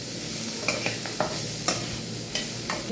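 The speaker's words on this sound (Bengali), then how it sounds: "এবার আমি এই জলে ভিজিয়ে রাখা সয়াবিন গুলো এটা ভালো করে একটু আমি সয়াবিনটাকে ভেজে নেব।" Water-soaked soybean chunks frying in a pan, a constant close sizzle broken by several sharp spatula scrapes spaced irregularly.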